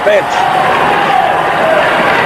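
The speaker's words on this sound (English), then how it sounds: "Bill Baker gets a great round of applause here at the Olympic Fieldhouse" Crowd applause for hockey player Bill Baker at the Olympic Fieldhouse during the Czechoslovakia vs USA Olympic game, a steady roar of clapping and cheering filling the arena beneath a commentator's voice.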